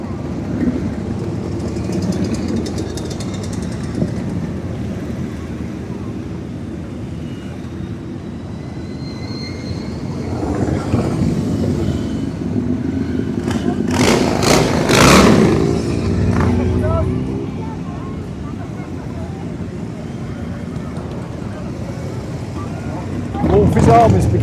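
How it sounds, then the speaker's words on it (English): Hundreds of Harley Davidson motorcycles and a couple of scooters passing by at a rally in Baildon in 2024, engines rumbling in a continuous stream that swells as bikes go past close by, with people talking under the noise. "As I say, hundreds of bikes."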